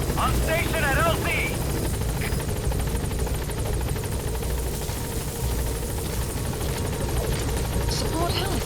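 Support helicopter in Metal Gear Solid V: The Phantom Pain arrives at the landing zone, its rotor a loud continuous chopping roar throughout, with brief radio-style voices briefly heard over it near the start.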